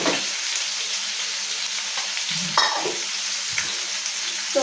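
Fish frying in a pan of hot oil gives a steady, close crackling sizzle with a few sharper spatters and light stirring scrapes, no voices.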